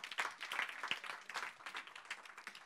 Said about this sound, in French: Donc on peut applaudir, parce que c'est quand même pas mal.